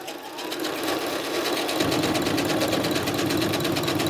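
A sewing machine running a basic zigzag stitch along the edge of a crazy crumb quilt block, a loud, steady, close mechanical whir with a fast rhythmic chatter that speeds up slightly partway through.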